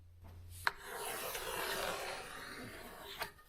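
A wooden base for a micro spine is shaped by hand with a continuous rough rasping rub lasting a few seconds, framed by a sharp knock at the start and another near the end.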